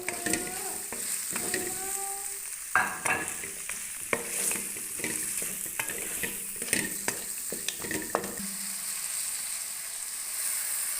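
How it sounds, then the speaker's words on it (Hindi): Beef being roasted in a pan with cumin, red chilli and turmeric for beef karela: irregular spoon scrapes and stirring strokes over a steady sizzle, close and fairly loud, with no talking. "गोश्त को अच्छी तरह से भुनाई करके इसमें मसाले ऐड करने हैं, जीरा, सुरख मिर्च और हल्दी पाउडर।"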